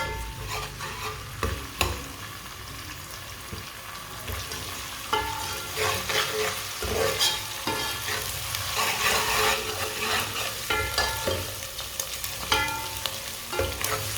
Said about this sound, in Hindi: आधा चम्मच कुटा हुआ अदरक, अदरक को भी 1 मिनट के लिए पका लेंगे।